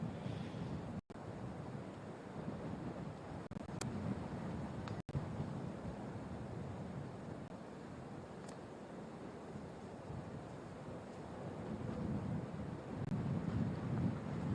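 Wind blowing right to left across a golf course at a women's professional tournament, a soft, low, continuous rushing with faint gusty swells, distant and fairly quiet, with a couple of sharp dropouts.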